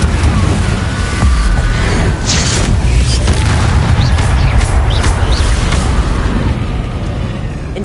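Confringo blasting spells from Hogwarts Legacy go off as heavy, booming explosions, loud and rumbling without a break, with bursts and crackles layered over the roar.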